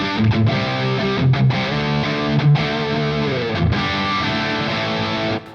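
An electric guitar plays through a Soldano SLO 30 amp with reverb, a loud sustained 80s-style chord passage ringing out with brief gaps between strummed chords.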